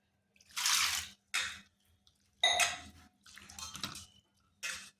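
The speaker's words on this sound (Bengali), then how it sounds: "এরপর আলুটাকে ভালোভাবে ধুয়ে নিতে হবে তিন থেকে চারবার" Raw potatoes are washed in water in several separate bursts of splashing and sloshing, each lasting about a second with quiet gaps between, close and fairly soft.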